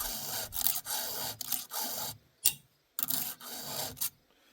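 A chainsaw chain being filed to sharpen it, heard as close, raspy strokes in uneven bursts of rubbing with short pauses between, then a brief tap, with no talk.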